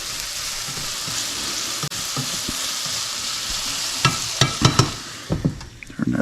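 A pot of chicken rice soup sizzles steadily, then a spoon scrapes and knocks against the pot in a cluster of clinks toward the end.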